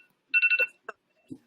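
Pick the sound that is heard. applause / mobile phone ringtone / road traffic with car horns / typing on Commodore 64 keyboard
mobile phone ringtone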